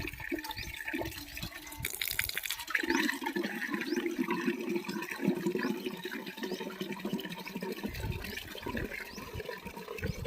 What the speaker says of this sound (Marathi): असं खाली ठेवलं तर बाबा पाणी येतं ना मस्त पाणी